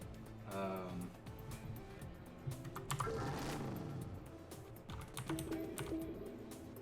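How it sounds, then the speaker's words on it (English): A mechanical keyboard clacks in irregular runs of keystrokes, close and soft, while someone talks over much of it. "it's unfortunate that I have a mechanical keyboard"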